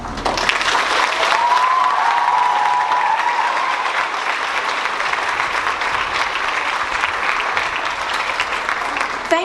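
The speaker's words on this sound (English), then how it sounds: "how about another round of applause for her, please?" Audience applause at a school speaking event, steady and full for the whole stretch, with a brief whistle-like tone near the start and no clear voices over it.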